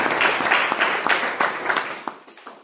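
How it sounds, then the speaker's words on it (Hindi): An audience applauds with steady, dense clapping that gradually thins out and fades over a couple of seconds. "मैं चाहता हूँ पर जोरदार ताली।"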